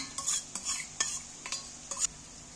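Mutton being mixed by hand with ginger-garlic paste, coarsely crushed garlic and salt in a bowl, giving soft intermittent squelching and scraping strokes, close and fairly quiet, with no talking.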